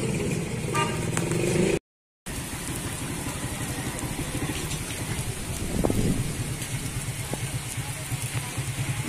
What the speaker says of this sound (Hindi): बड़ा सोहनी बारिश लगी पई